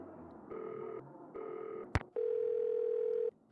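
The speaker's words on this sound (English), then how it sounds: "Phone rings, but no one answers." In the Nancy Drew: Danger by Design video game, a telephone call goes unanswered: two ringback tones sound, then a sharp click and a long steady line tone, all heard alone.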